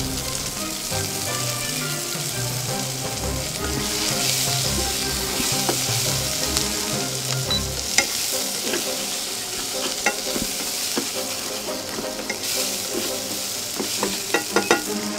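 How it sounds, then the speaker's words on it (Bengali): Chopped onion fries in hot oil with black cumin seeds in a pan, a continuous close sizzle with scraping stirs throughout. "ওই তেলেই পেঁয়াজ কুচি ভাজতে হবে।"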